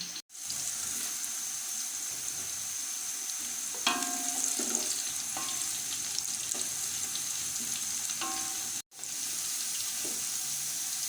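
Whole spices (star anise, black cardamom, cinnamon, cloves, black peppercorns) frying with golden onions in hot oil for chana pulao, a steady close sizzle with a few stirring scrapes and a brief break near the end.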